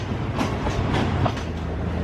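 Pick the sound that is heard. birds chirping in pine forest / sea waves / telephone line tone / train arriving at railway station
train arriving at railway station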